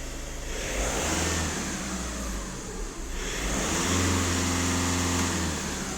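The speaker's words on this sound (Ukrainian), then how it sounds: "Ось я газую." VW Caddy 1.6 TDI diesel engine revving in a workshop, the engine note rising loud and close, dipping briefly near the middle, then revved again and held at a steady higher drone.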